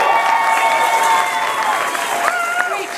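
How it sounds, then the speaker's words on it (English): Applause from an audience for a group of children at a school holiday concert, steady and fairly loud across the whole stretch, with crowd noise and some voices mixed in. "applause for these great kids"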